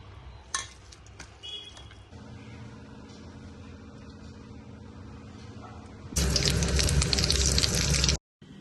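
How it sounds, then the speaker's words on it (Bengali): Flattened rice (chira) is rinsed in a kitchen, with soft handling clatter before a tap bursts on into loud, steady running water for about two seconds and then shuts off abruptly. "চিড়েটা আবার ধুয়ে দিলাম"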